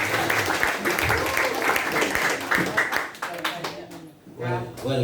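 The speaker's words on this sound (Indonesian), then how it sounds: "Masya Allah, tepuk tangan." An audience at an Islamic Qur'an memorization lesson claps and applauds, a dense patter of clapping that mingles with a voice talking and then fades out near the end.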